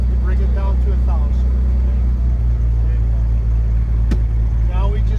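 A 1955 Beechcraft Bonanza F35 engine drones loud and steady at a low warm-up idle close by, while voices talk over it throughout.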